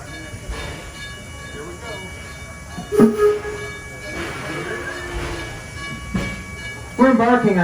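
A passenger train carries riders on a scenic village loop ride, giving a steady rolling rumble and hiss with scattered squeals and clanks; voices talk over it in places.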